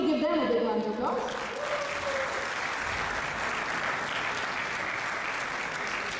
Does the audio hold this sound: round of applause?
yes